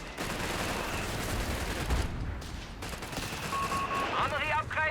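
Rapid bursts of flak gunfire from a Company of Heroes 3 battle, dense overlapping volleys and thuds with a game voice speaking over the din and brief electronic tones near the end.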